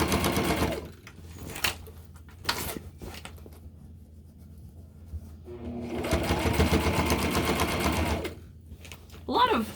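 Sewing machine stitching a tote bag lining, running in short bursts with pauses between, a longer steady run near the end, close and moderately loud.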